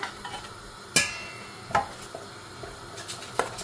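Flour is stirred into coconut milk to work out lumps for Sri Lankan Jaffna-style aadi koozh, a spoon scraping and clinking sharply against the bowl now and then, close and otherwise quiet.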